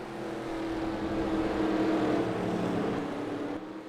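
A number 9 Oldsmobile stock car in a Monroe race passes with a steady, droning engine roar that swells and then eases slightly.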